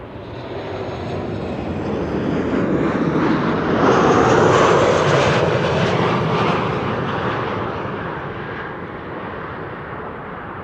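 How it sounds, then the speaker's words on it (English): A KLM Boeing 737-800 arrives at Amsterdam Schiphol, its jet roar swelling to a loud peak mid-pass and then fading away, with no talking. "KLM flight 1614, arriving from Milan, 737-800"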